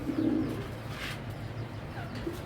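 Tournament pigeons coo softly and steadily in a loft, with a low repeated cooing and faint chirps close by throughout.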